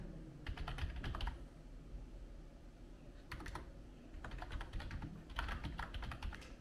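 Fingers type on a Gembird backlit multimedia keyboard. Short bursts of quick, clicky keystrokes are separated by brief pauses, close and moderately loud.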